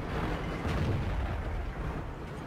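A tank cannon fires in World of Tanks, a heavy booming blast over a dense low rumble that keeps rolling for a couple of seconds.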